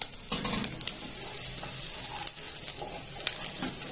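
Seasoning frying in a pan until golden for a quick yam broth, a steady close sizzle with faint stirring scrapes and a few brief clicks throughout.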